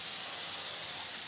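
Burger patty hitting a Blackstone griddle heated to 400 degrees, a steady, bright, close sizzling hiss that fills the whole short moment without pause.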